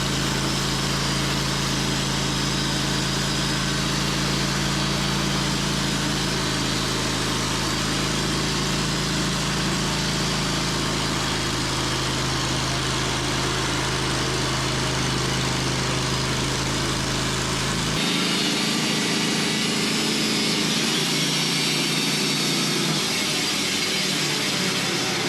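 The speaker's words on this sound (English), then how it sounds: "You probably haven't even started a gas chainsaw up in a while." A gas chainsaw engine runs continuously, loud and near, while sawing timber frame beams, with a steady droning idle that shifts in tone partway through.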